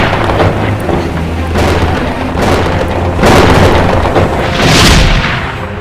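Deep rumbling booms of thunder from a lightning strike roll in waves over about six seconds, loud and close, with heavier crashes near the middle and end.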